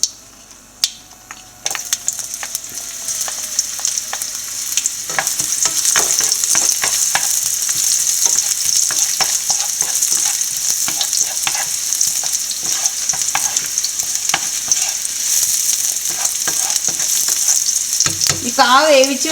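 Mustard seeds, dried red chillies and shallots tempered in hot oil for a green banana thoran give a loud, steady crackling sizzle with dense popping. It runs close and unbroken for the whole stretch, with no talking.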